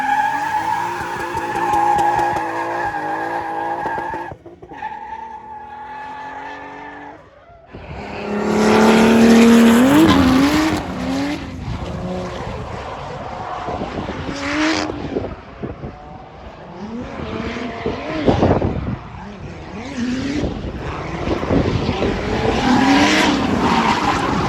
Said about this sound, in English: All right, victory burnout.